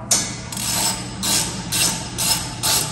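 A socket wrench works a 17mm bolt loose on a JCB 1CXT compact loader, giving several crisp ratcheting bursts in a repeating rhythm, close and fairly loud with no talking.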